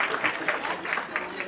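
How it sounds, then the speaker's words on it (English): Audience applause welcoming Mona Fields at a city council meeting, a modest round of clapping with individual claps audible in an uneven rhythm, moderately close and fairly quiet. "give her a big round of applause"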